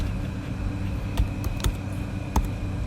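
Typing on a computer keyboard while entering text in a design program: a handful of scattered, sharp keystrokes with pauses between them, fairly quiet over a steady hum.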